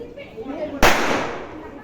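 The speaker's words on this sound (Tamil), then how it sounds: "உன் பையன் என் வீட்டுக்குள்ளேயே பட்டாசு கொளுத்துறான்." A single firecracker bursts indoors with a sharp, loud crack that trails off into a hissing decay, following a few seconds of quiet background sound.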